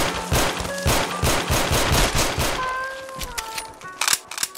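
Browning High Power 9mm pistol shots from a Fallout 4 handgun mod, several sharp close reports in quick succession, then fading ringing tones and a few scattered clicks and thumps.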